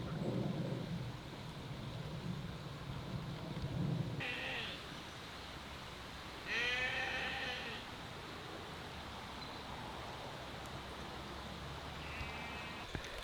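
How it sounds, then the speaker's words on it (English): Sheep bleat a few times in the distance beside a riverside path in Derbyshire's Derwent Valley, drawn-out wavering calls over a steady hiss of rain and wind. "on our right, as you can probably hear, are a number of sheep"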